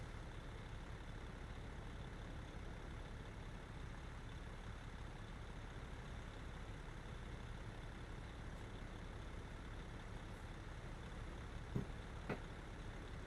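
Truck engines in the American Truck Simulator video game, a steady low broadband drone that stays even throughout, with a couple of brief clicks near the end.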